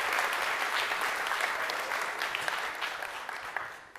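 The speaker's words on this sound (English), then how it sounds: "So give yourselves a round of applause for that." An audience at a leadership engagement event claps loudly and steadily for several seconds, the applause slowly tapering off toward the end.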